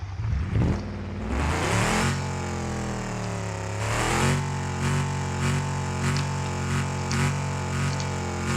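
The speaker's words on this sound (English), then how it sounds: "Let me give it a few revs so you can hear it." A Lincoln car engine in BeamNG, on a rallycross test track, revs up loudly several times, rising and falling in a strong, close, buzzing roar with rhythmic pulses and no talking.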